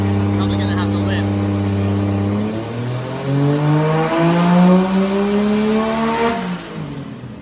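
A turbocharged Toyota 2JZ-GE VVTi engine on a dyno revs up in a rising pull. The loud, close engine note climbs steadily in pitch, then drops off as the throttle is lifted near the end.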